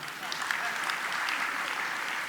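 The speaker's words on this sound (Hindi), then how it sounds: "एक बार तालियां तो बजा दो।" A spiritual discourse audience claps briefly, a soft, fairly distant patter of applause lasting a couple of seconds.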